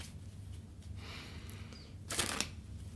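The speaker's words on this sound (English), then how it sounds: "So they seem pretty nice and shuffled." Tarot cards being shuffled by hand, a soft close riffling and flicking of the deck with a brighter burst of card snaps near the end, no talking.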